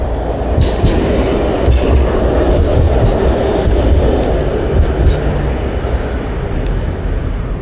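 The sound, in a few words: tram passing by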